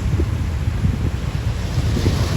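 At Patong Beach in Phuket, strong wind buffets the microphone with a low, rumbling roar that almost buries the steady wash of surf.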